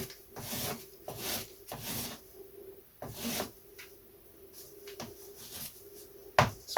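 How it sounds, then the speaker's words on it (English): Rhythmic abrasive rubbing of a coarse sanding block on a wooden pre-WW1 RC aircraft model, repeated back-and-forth strokes at close range, moderately loud with brief pauses between passes. "I'm going to have to stop there actually and start sanding."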